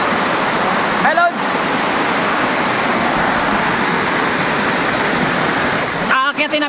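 A waterfall roars as a loud, steady wash of rushing water, briefly interrupted by short bursts of talking near the start and the end.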